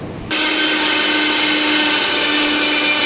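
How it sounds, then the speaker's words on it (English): An electric grinder whirs up to speed and holds a loud, steady high-pitched motor drone as it grinds onion for chicken gravy, close and continuous after a brief quiet start, with no talking. "to make our gravy, I grind this our onion"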